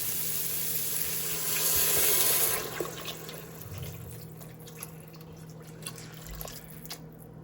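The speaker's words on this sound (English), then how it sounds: "And I'm adding some water just to cover the beans." Water runs into a pot of dry, unsoaked black and pinto beans. It starts as a steady, close pour, then settles into fainter trickles and drips, with no voices.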